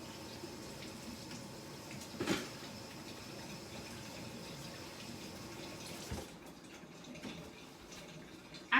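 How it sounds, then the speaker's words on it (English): Tap water runs in a steady, moderate stream with a soft splashing wash, as hands are rinsed beneath it, and a couple of brief louder splashes stand out. "I'm gonna wash my hands quick"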